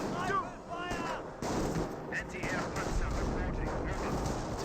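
Battle gunfire in a Company of Heroes 1 match, with grenadiers advancing on an anti-tank gun: dense, overlapping shots and bursts that roll on without a break at steady, fairly loud volume.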